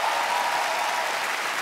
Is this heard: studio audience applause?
yes